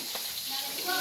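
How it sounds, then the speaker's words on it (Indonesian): Catfish frying in hot oil, a thin crackling sizzle throughout with a few sharper pops toward the end, close by and moderately loud. "Goreng lele petek-petek lur ngene iki."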